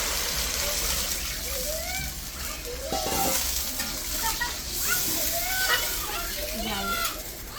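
Water goes into a pan of sizzling fried spice paste for a Bengali rui and shing fish curry, a loud continuous hiss and bubbling with pan clatter and background voices throughout.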